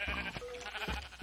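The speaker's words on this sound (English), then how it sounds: "There's a Jeb sheep, rainbow sheep." Sheep in Minecraft bleating twice in short, close wavering calls, clear and alone with no talk.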